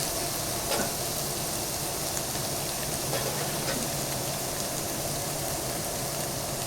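Meat sears in a hot pan for a white ragù, a dense, even sizzle that runs steadily from start to finish at close range with no talking.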